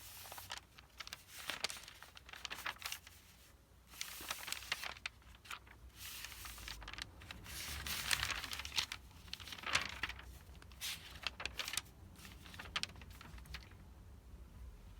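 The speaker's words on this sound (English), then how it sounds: "the sound of full notebook pages turning" Papery rustling and crinkling from pages being turned, several soft bursts spread across the clip, close and fairly quiet.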